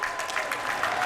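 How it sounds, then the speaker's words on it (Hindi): An audience claps at a ceremony welcoming a prime minister, a dense, even burst of many hands clapping together at moderate loudness throughout the short stretch. "अपनी तालियों के प्रणाम आप मंच तक पहुँचाएं"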